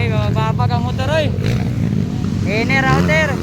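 Enduro motorcycles race at a local town-fiesta heat, engines whining and shifting pitch as they rev and pass, loud and continuous beneath an excited announcer and crowd voices.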